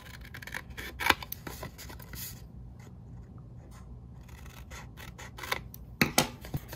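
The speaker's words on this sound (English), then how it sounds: "We're going to cut those out, just going straight across where the score lines intersect." Scissors cut scored paper corner blocks in a quiet room, a series of close crisp snips and scrapes with a short pause midway, then a few sharper cuts near the end.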